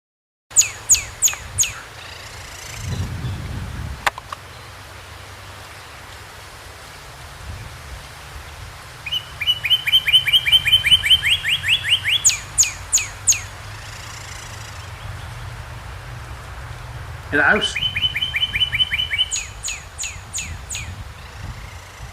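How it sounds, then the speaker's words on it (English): Repeated bright, whistled phrases of a northern cardinal ring out in bursts, with steady rain pattering in the background between songs. "The song is distinct and easily recognizable as a cardinal."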